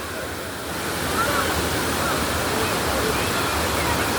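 Steady, loud roar of Aruvikuzhy waterfall in Kerala, a dense broadband rush of falling water that swells slightly after the first second and holds constant, heard up close beneath the falls.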